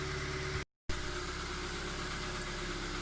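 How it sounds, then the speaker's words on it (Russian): Running engine of a 2017 Kia Ceed, a few minutes after a cold start, idling with a steady low hum and a faint rapid knock in the background; the sound cuts out briefly near the start. "такой стук в машине интересный, его еле слышно."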